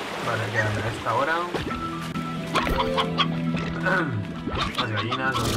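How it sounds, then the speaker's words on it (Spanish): Chickens cluck in the Slime Rancher video game, several short bursts coming and going over a steady hum of background game sound, with a person talking at the same time. "Las gallinas, los interesan."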